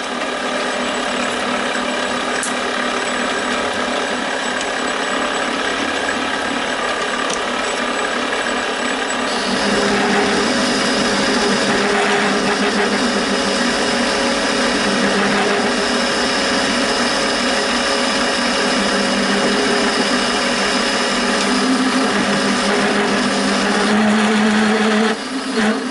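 A metal lathe chatters while cutting a thread with a die held in a tailstock die holder, making a harsh, continuous grinding rattle that grows louder and rougher about a third of the way through and persists to the end.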